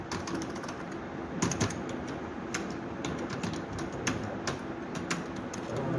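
Someone types on a computer keyboard, entering a trust's name. The key clicks are close and come in a fairly steady run, with a few heavier taps, over a faint background hum.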